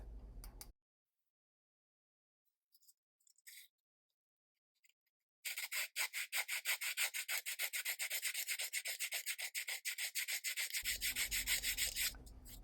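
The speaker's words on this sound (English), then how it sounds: "I'm going to take some sandpaper and I'm just going to sand this until it's nice and smooth" Sandpaper rubs on a small wooden part of a 1:12 scale miniature baby grand piano in fast, even back-and-forth strokes for about five seconds, close and clear, after a few faint taps.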